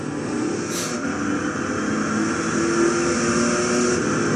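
A supercharged 1970 Dodge Charger 440 R/T engine in Gran Turismo 6 at Tsukuba, a loud steady drone with a high supercharger whine layered on top, no one speaking.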